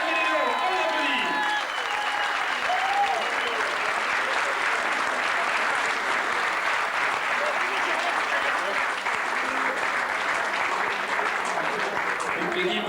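Sustained applause from a rally crowd cheering drivers at a 1995 French rally, a dense steady clatter of clapping lasting throughout with no pauses.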